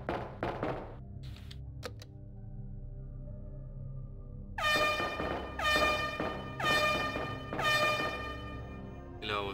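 Resident Evil 2 truck horn: after a few clicks and a quiet stretch, a loud, blaring air horn sounds in four long repeated blasts close by.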